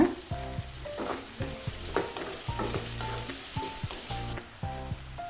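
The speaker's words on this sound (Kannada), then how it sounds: "ಇದನ್ನು ಚೆನ್ನಾಗಿ ಫ್ರೈ ಮಾಡ್ಕೋಬೇಕು." Onions and cinnamon sticks fry in a pan for a red chicken roast, with a steady sizzle broken by repeated clinks and scrapes of stirring.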